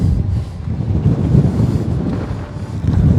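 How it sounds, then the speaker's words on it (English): Strong wind buffets the microphone on a very windy day at an RC flying field, a loud continuous low roar that rises and falls in gusts, with no voice over it. "I don't know if y'all can hear that wind cutting through me"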